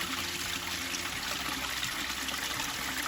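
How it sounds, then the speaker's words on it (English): Small waterfall and feeder streams trickle over rocks outdoors, a steady, even wash of water that holds constant throughout with no talk. "So we've come across this pretty little waterfall area. These are like feeder streams coming down."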